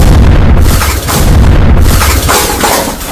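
A pressure cooker full of dal bursting, a loud booming blast with a shattering rush that stays heavy and noisy for about three seconds, with no talking.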